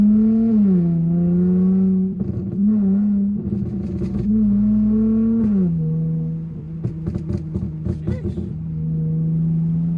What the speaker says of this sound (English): Downshifts be sounding evil.